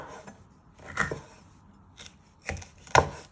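A kitchen knife slices a de-seeded pepper into thin pieces on a board, making three or four distinct close chops separated by short pauses, with faint soft cutting between them.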